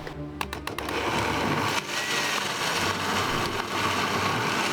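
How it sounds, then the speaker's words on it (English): Blender blitzing red chilies, garlic, onion and lime leaves, a few stuttering pulses before settling into a steady, loud whirring grind that continues to the end without talk. "Everything gets tossed into the blender. No messing around, just blitz it into oblivion."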